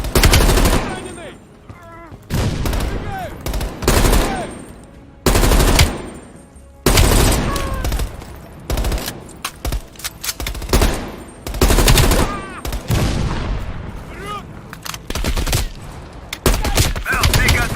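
Loud, sustained machine gun fire fills the scene in the Call of Duty Black Ops Cold War campaign, with long rapid bursts broken by brief gaps, layered with other gunshots and voices shouting over the combat.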